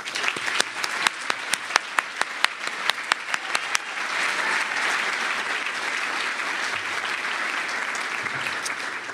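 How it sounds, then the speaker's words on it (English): Audience at a university commerce luncheon breaks into applause, starting with a few distinct claps and swelling into a steady roar of many hands in a large room. "I think she deserves a round of applause"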